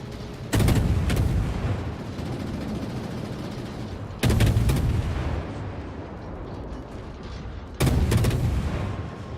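German Z-52 Tier 10 destroyer guns firing in World of Warships, three loud separate salvos a few seconds apart, each a sharp boom fading into a long rumbling tail.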